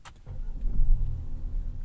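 A 2025 Audi A5 48-volt mild hybrid engine starts with a short crank, then settles into a loud, low, rumbling idle close by, with no talk over it.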